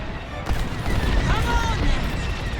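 Enemy blaster fire in the Star Wars Squadrons space-combat game: a dense, loud volley of rapid laser shots and rumbling impacts over continuous engine roar, with a voice speaking over it.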